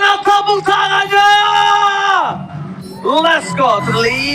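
Crowd at the MPL esports arena roars and cheers loudly in bursts during a mobile esports match, with whooping voices rising and falling over a few seconds.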